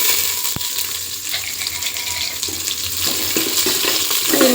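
Spices, onion, cumin and chana dal fry in oil in a home kitchen with a steady, close crackling sizzle, one sharp knock near the start and a few scraping stirs, and no one speaks.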